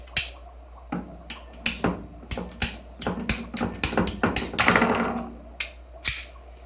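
A ratcheting pipe cutter working through 1-inch PVC pipe for an aquarium overflow setup gives a series of about a dozen sharp, close clicks and snaps in an uneven rhythm, with no talk.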